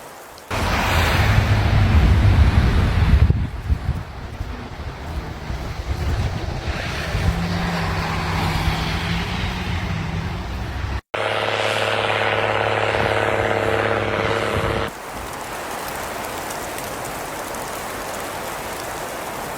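Wind from a heavy snowstorm in Ontario rushes and gusts loudly, with a steady roar that shifts in strength across several sections.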